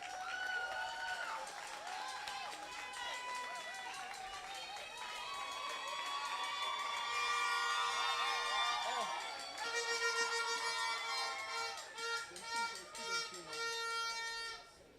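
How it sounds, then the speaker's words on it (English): Audience applause and cheering at a student union election debate as candidates leave the stage, a crowd noise with shouts and whoops rising and falling over music, with voices heard through it. "Just a round of applause for both of them,"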